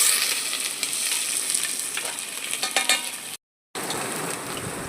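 Onion frying in hot oil with mustard seeds and cumin, a steady close sizzle and crackle with small scraping and clinking stirring noises, a brief cut in the middle, no talking.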